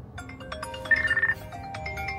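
A short phone ringtone chirps a quick electronic melody, faint and trilling, over low background hum.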